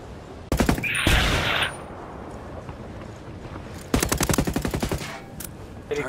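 Gunfire in the video game Ghost Recon Wildlands: a short burst near the start, then a longer run of rapid automatic shots toward the end, loud and close with quieter stretches between.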